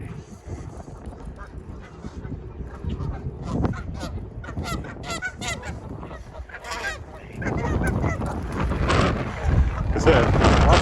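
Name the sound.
birds, likely geese, honking by a lake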